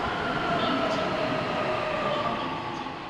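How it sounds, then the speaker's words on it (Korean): A subway train rumbles steadily into a station, a continuous low roar with faint metallic squeal, loud and close throughout. "지금 양산행 열차가 들어오고 있습니다."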